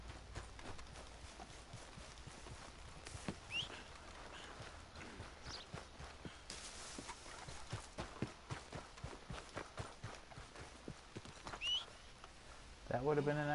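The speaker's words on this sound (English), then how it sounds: "Oh, I spooked my horse." A spooked horse gallops in Red Dead Redemption 2, with steady, rapid hoofbeats close by over outdoor ambience, ending in a brief louder flourish.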